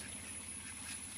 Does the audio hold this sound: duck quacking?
yes